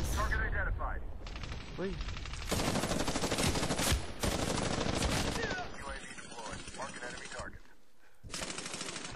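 Rapid automatic gunfire rattles through a Medal of Honor match in long close bursts, separated by brief lulls. A man gives a short exclamation over the shooting.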